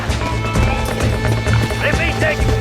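Horse galloping in Red Dead Redemption, hooves pounding in a quick steady rhythm close up, with a brief whinny-like squeal near the end, under ongoing background sound.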